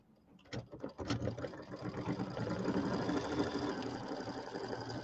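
An embroidery machine runs a tack-down stitch over a second fabric layer in yellow thread for a Kimberbell table topper. A few separate thumps lead into a steady, close mechanical whirr and rattle.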